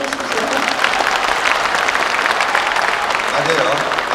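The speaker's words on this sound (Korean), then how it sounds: "박수 한번 쳐주십시오." Audience applause at a Liberty Korea Party member-education event, a dense, steady wash of clapping from a crowd with some voices mixed in, holding at an even loudness for several seconds.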